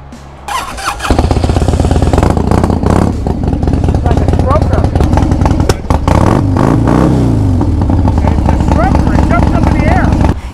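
A 1999 Harley-Davidson Sportster starts and revs loud and close, its engine rising and falling with squealing, clattering tones while voices talk over it.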